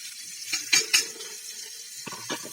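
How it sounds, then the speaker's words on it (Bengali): Spices (salt, coriander powder, ginger paste, turmeric and cumin powder) sauté in a pan for a cabbage curry, giving short scraping and sizzling bursts in two brief clusters, close and moderately loud, with no talk. "এই মশলাগুলোকে এবার ভালো করে কষিয়ে নিতে হবে।"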